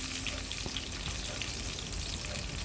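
Mustard seeds, curry leaves and Byadgi chillies spit and crackle in hot oil for a tomato saaru tempering, a steady dense sizzle with small pops, close and continuous with no talk.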